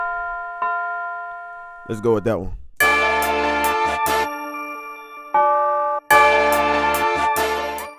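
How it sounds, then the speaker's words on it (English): Tubular bell notes ring out in a hip-hop beat, sounding loud, bright and sustained with long decaying tails, struck in repeated hits over drums, while someone speaks briefly. "I'm gonna go and put a tubular bell in there"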